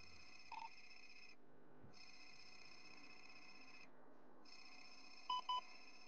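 A phone rings in the GTA roleplay video game: repeated electronic ring tones in regular bursts separated by short silent gaps, with a couple of brief beeps near the end and no speech.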